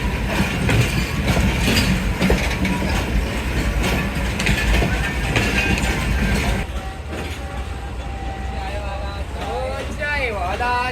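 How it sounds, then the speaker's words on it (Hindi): Karachi Express passenger train rolling along the rails between Rohri and Lahore: a loud, steady rumble and rattle of wheels and carriages that drops to a quieter hum partway through, with voices and tonal sounds over it. "तो हमारी ट्रेन भी जो है आहिस्ता आहिस्ता चल गई है"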